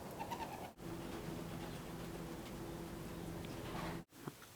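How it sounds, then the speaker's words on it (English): Pigeons in a newly built stock loft give soft, low cooing amid faint rustling and ticking, a steady indoor bird murmur without speech. "So I moved some of these birds over into the new loft that I built."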